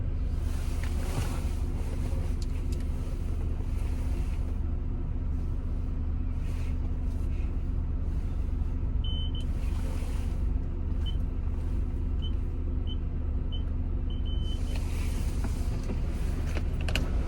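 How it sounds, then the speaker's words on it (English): Automatic car wash working over a car, heard from inside the vehicle: a steady low rumble and whoosh of water and brushes with bursts of louder spray and brief high whines, continuous and fairly close, no talking. "Open this so you can see the car wash"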